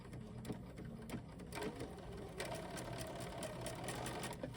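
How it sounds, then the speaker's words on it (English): A sewing machine stitches a quilt seam on a scrap quilt, its needle chattering steadily and rapidly throughout at close range with a constant mechanical hum. "And now I'm going to start sewing."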